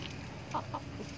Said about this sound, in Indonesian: Akhirnya saya berusaha mengatasi bagaimana caranya supaya ayam jantan tidak ribut.